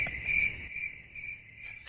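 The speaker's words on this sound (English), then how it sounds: "The crickets have made a return." Crickets chirp steadily in a quiet indoor-sounding space, a continuous high trilling that pulses in short bursts, moderately faint and heard alone without talk.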